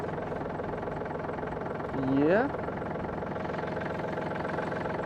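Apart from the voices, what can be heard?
tractor engine idling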